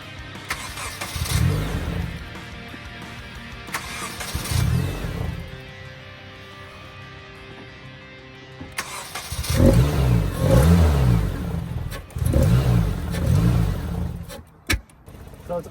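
An SR20-powered Infiniti G20 engine with a faulty mass airflow sensor cranks and catches, then revs up and down in several surges, loud and close, with idling stretches between.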